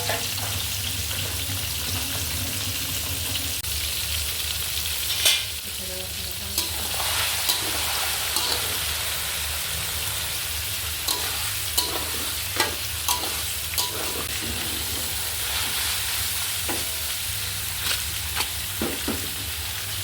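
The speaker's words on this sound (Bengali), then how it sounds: "তেল গরম হয়ে গেছে, আমি এখন মাছগুলো দিয়ে দিচ্ছি।" Chewa fish pieces fry in hot oil, giving a constant close sizzle with scattered clinks and utensil taps, and no voices.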